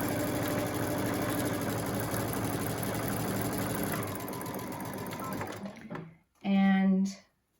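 A sewing machine running a continuous 1/4 inch seam on surgical mask fabric pieces, a loud steady motor hum for several seconds, then stopping before one short final burst.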